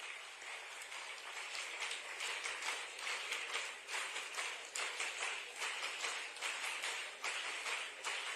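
An audience at a World AIDS Day event in Indore applauds the arrival of Chief Minister Mohan Yadav, a broad sustained wash of clapping from a large crowd that swells and pulses steadily, heard from some distance.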